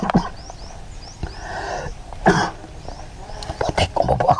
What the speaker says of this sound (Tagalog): umubo ako